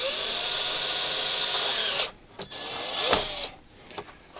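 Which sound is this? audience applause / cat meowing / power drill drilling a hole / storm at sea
power drill drilling a hole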